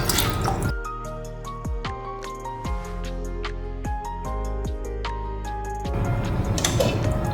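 Juice from a small lemon drips into a pot while cooking prawn pulao, a run of distinct plopping drops falling one after another at an uneven pace, close and clear with no talk.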